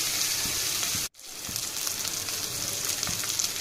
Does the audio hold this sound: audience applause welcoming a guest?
no